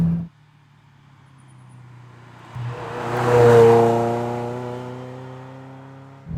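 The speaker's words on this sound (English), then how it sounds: "you do get this drone, you get this resonance in here all the time" A road-legal 1995 Ferrari F355 Challenge heard from inside the cabin: a low engine drone that builds into a loud, resonant rev with rising harmonics, peaks, then eases back to a steady hum.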